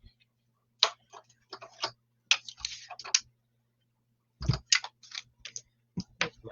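A cut and emboss machine for cardmaking runs with bursts of sharp clicking and ticking at an irregular rhythm, close and fairly quiet, with brief low thumps and pauses between bursts and no talking.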